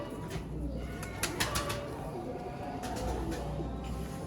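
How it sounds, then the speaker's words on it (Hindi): Pigeons coo softly amid a loft of Sialkoti pure-bred birds, low murmuring calls repeating in the background with brief flutters and chirps, heard close and fairly steady throughout. "बहुत आला कबूतर है।"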